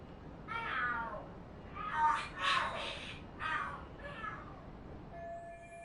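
Cats fighting and screeching in the Lost Judgment video game, a string of drawn-out yowls and caterwauls in several bursts, fairly close over a quiet background, followed by a faint electronic tone.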